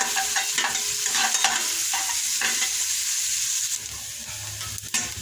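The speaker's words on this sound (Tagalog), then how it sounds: "Lutuin muna natin yung luya." Ginger frying in a pan gives a steady, close sizzle with stirring scrapes and clicks running through, loud and continuous with no talking.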